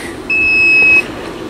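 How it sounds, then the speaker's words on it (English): A kitchen timer being set for an hour while ribs cook lets out a single long, steady electronic beep lasting under a second, clear over a quiet room background. "We'll set our timer."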